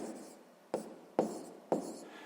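A pen writes a maths calculation on paper in three or four short, scratchy strokes, close and quiet, each one starting abruptly and fading.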